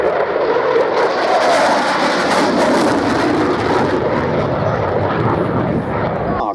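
Aircraft making a high-speed pass at the Biggin Hill airshow, a loud broad engine roar sustained throughout, with an announcer talking over it.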